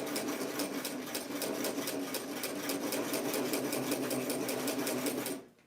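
A sewing machine runs a seam on a 1990s vintage gown, with close, even rapid stitching that holds steady for several seconds and then stops abruptly.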